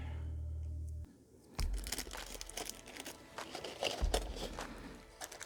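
Crinkly plastic bag of small N-scale model railroad detail parts being opened, a steady close rustle with bursts of crunchy crumpling and tearing, no talking.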